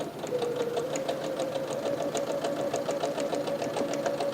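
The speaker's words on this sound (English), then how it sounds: "my next step is going to require slower sewing" A sewing machine stitches quilt block pieces at a steady, moderate pace, its rapid regular needle clatter running close and continuous without pause.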